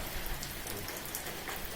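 Rain falls steadily on garden plants in Palakkad, a soft, even hiss of drops on wet leaves, close and continuous with no voices.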